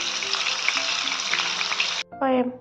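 Fish pieces frying in hot oil for a Kerala-style fish molee, a dense continuous sizzle that cuts off abruptly near the end, followed by a brief burst of a voice speaking.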